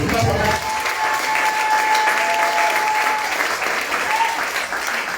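A church congregation claps and cheers in sustained applause throughout, a dense wash of hands with crowd noise behind.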